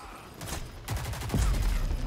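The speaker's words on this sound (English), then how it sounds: "Oh, he has a shotgun." Shotgun blasts ring out in the Rogue Company game, several loud booming shots in quick succession during a close firefight, with a heavier burst near the end.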